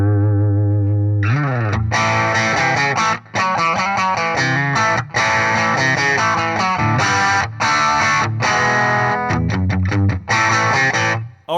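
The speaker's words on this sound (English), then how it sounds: "get a stock tone from this one so we can compare the original pickup and the original sound of this guitar to the new sound" An electric guitar on its original stock pickup plays a continuous, dense, distorted riff of sustained chords and single notes with effects processing, loud and unbroken with no talking.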